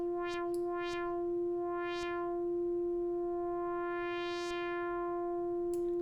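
Sustained synth tone with its filter cutoff swept by a ramp plus triangle modulation on an Arturia Prophet V/VS, repeatedly brightening and dropping off abruptly, steady and alone.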